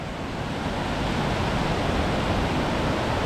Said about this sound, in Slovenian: Tukaj so zanimivi izviri.